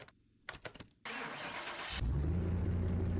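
The Mayen T8's V10 engine in Car Mechanic Simulator cranks with a few clicking turns and a whirring starter, then catches and settles into a loud, steady idle.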